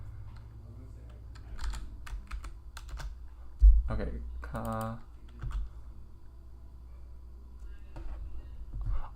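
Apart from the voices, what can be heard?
typing on a keyboard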